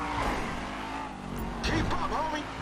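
A car drives and skids in the video game GTA V, an engine drone with tire squeals and sliding sweeps midway, under a speaking voice.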